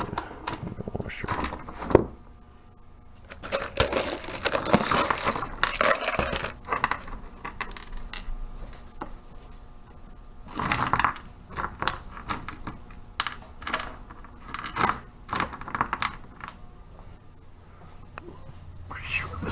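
Small metal hardware rattles and clinks as a hand rummages through it for a washer. The bursts come up close and irregular, with quiet gaps between them and a voice talking in between.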